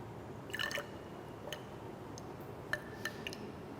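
Water drips into a test tube holding a small salt sample in a school science experiment, giving several faint, sharp plinks spaced irregularly over a hushed room background.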